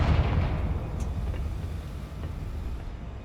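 A Confringo fire spell blast in Hogwarts Legacy, a loud rumbling explosive burst with a low booming tail that fades over a few seconds, with no voices.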